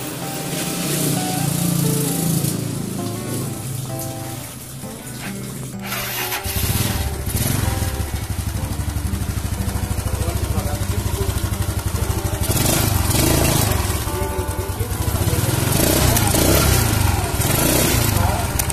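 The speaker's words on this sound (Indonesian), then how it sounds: "Kita nyalakan lagi. Kita starter." A Yamaha Mio scooter with a faulty one-way starter clutch is cranked on the starter, then its engine catches and runs steadily, loud and close, for the rest of the clip.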